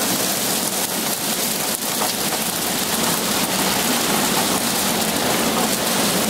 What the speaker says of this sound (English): pretty scary how much rain came down so fast and so hard